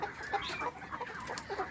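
Chickens clucking nearby in short, scattered bursts over a low background hum, with no talking.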